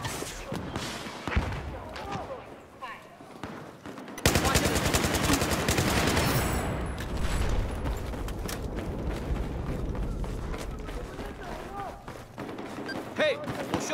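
Machine gun fire in a Battlefield 4 team deathmatch on the Lancang map, dense rattling bursts and heavy gunfire continuing throughout, with scattered other weapon sounds in the mix.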